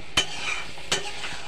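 Spinach and egg curry with a little water is stirred in a pan: two distinct scraping strokes over a steady low sizzle, close and fairly loud, with no talking.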